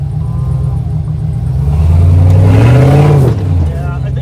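A Jeep engine revs hard while climbing the rocky Hamburger Hill trail at Kane Creek, a loud, sustained roar that rises in pitch, peaks, then drops back toward idle.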